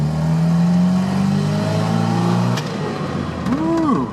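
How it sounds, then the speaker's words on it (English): Datsun Roadster engine pulling hard from low revs in second gear at full throttle, a loud steady rising drone that climbs in pitch over a few seconds, with no talking. "I'm gonna mash throttle. Look at that, she just pulls away."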